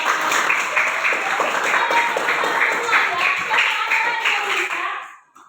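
A classroom of students claps in unison for a classmate who answered a question, brisk applause that fades out quickly near the end.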